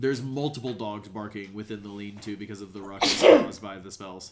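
A single sharp sneeze bursts out partway through, close and loud, over someone speaking steadily during a tabletop role-playing session.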